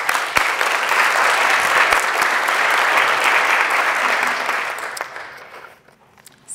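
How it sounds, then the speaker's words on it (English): An audience claps steadily in a hall for several seconds, dense and fairly close, before the applause tapers off and fades out. "Let's give them a round of applause."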